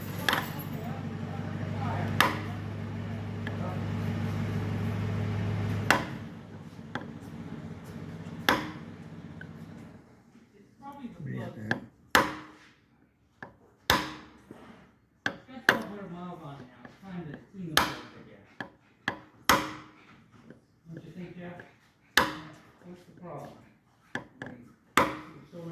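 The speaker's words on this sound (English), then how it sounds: "We're going to just tap it in with a ball peen hammer." Sharp metallic taps of a ball peen hammer striking a punch on a Ford flathead V8 ring out one after another, a dozen or so spaced irregularly, following a stretch of low steady noise with occasional talk.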